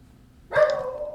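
Dog barking in a game: a single sharp bark rising from near silence, fairly close and clear, with a short ringing tail after it.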